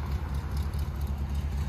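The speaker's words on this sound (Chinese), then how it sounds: "哦，这发动机哦" An old vintage car's engine runs with a steady, low, continuous rumble, moderately close and without talk.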